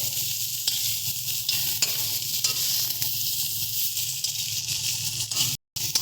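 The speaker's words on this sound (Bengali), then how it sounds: "মাছটা দিয়ে খুব ভালো মতন করে ভেজে নিচ্ছি এটাকে আমরা" Steady, loud sizzling of dried fish frying in hot oil, with occasional stirring scrapes and a brief drop to silence near the end.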